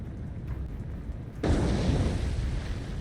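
Torpedo hits explode against a ship in the naval game War on the Sea. A loud, sudden blast erupts partway through and settles into a sustained roaring rumble over an already noisy background.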